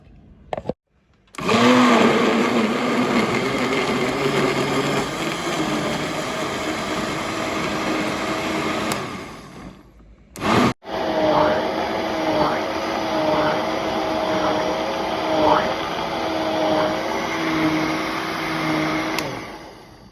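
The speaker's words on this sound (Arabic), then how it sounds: "كده انا خلطت المانجا بتاعتي في الخلاط." Electric blender whirring as it purees mango, yogurt and sugar, a loud steady motor drone with a short pause partway through, then resuming with a rhythmic pulsing churn of the thick mixture.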